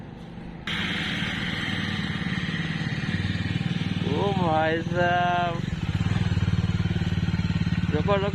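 A motorcycle engine idles steadily nearby and revs briefly partway through, with someone talking over the running engine.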